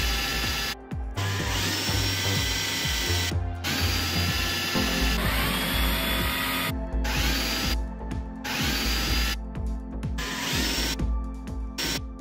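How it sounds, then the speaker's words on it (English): A power drill bores pilot holes into the steel front body panel of a MK1 Golf for a number plate mount, running in several loud bursts with short pauses between them, close up. "so that we could then drill the pilot holes."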